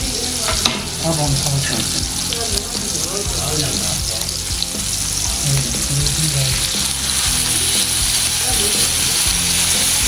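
Fresh garlic and chicken frying together in a pan, a steady dense sizzle running throughout with occasional stirring, while someone talks over the cooking.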